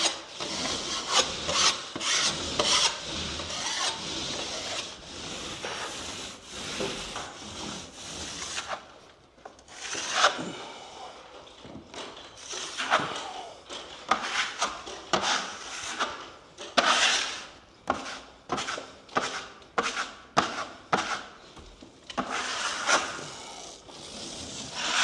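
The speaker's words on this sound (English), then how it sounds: "Give it a little scrape" Scraping a drywall patch before painting, a series of close, dry rasping strokes in bursts, some quick and repeated, with short pauses between passes.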